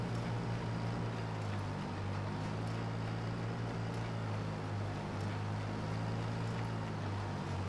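A large tractor engine drones steadily in Farming Simulator 25, a continuous low rumble with a strong tonal hum, loud and unbroken throughout.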